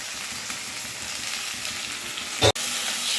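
Ginger, garlic and green chili paste frying in hot oil, a steady loud sizzle throughout with a brief sharp clatter near the end and no talking.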